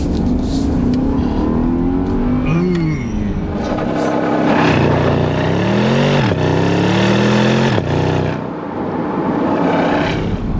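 A 2021 Bentley Flying Spur V8 in sport mode revs and accelerates hard up close, its engine note repeatedly climbing, dropping sharply at gear shifts and surging again, loud and alone.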